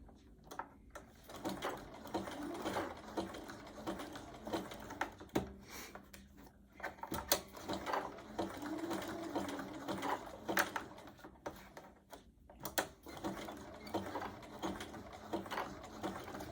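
A sewing machine runs a zigzag stitch while making a candle mat, a steady mechanical whir with a rapid clacking rhythm that continues throughout, with brief pauses and small knocks.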